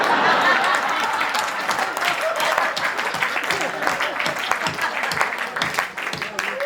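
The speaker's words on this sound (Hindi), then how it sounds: "रमन जी आपने इस पे ताली बजाई" Sustained audience applause at a Hindi poetry recital, many hands clapping together in a dense, steady roar that continues for several seconds.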